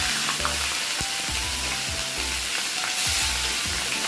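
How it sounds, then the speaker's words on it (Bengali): Bhola fish slid into hot oil and frying, a steady close sizzle with crackling bursts and stirring scrapes throughout, no voices. "যে তেলটা গরম হয়েছে, এই মাছগুলো দিয়ে দিচ্ছে পায়েল।"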